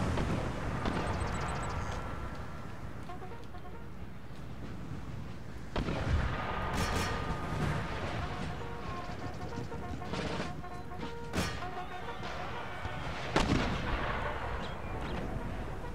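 Artillery and musket fire in Empire: Total War (Darthmod), a Poland-Lithuania battle: a low rumbling wash of gunfire with several sharp, distant cannon reports spread across the span, and no speech.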